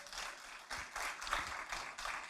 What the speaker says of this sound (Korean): 우리 다시 한번 하나님께 박수로 영광 돌립니다